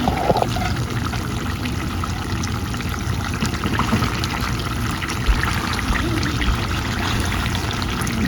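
Water pours into a pot of goat meat and potato curry, a steady, close rushing and trickling that runs without a break.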